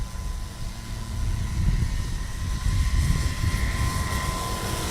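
A light aircraft in a STOL competition at Hartford, Wisconsin rolls for takeoff, its engine a broad steady roar that swells and holds at moderate distance for several seconds, without speech.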